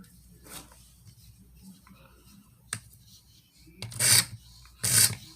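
A Benchmade 13940 knife is sharpened on a Venev OCB stone, giving a few sparse raspy strokes followed by two louder, longer grinding passes near the end.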